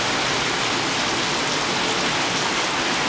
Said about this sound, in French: C'est ça, c'est la pluie.